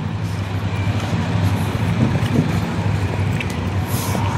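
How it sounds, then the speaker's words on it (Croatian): Steady road traffic rumbles from behind in a town square, a continuous broad wash of passing vehicles at moderate distance with no distinct single pass standing out. "Evo ljudi, promet iza nas."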